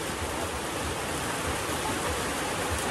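Steady, dense afternoon rain pours continuously, a loud even hiss with no breaks.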